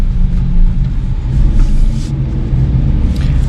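A 1.0-litre automatic Kia Picanto accelerating uphill, heard from inside the cabin as a loud, steady low engine rumble that holds its drone without pause.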